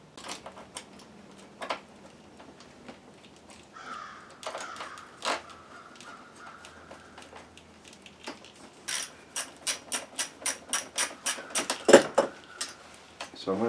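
A ratchet snugs the steering bolts on a 2010 Arctic Cat with loose steering play, its quick clicking bursts coming close and fairly loud, and the denser clicks arrive in the later half, with faint talk heard earlier.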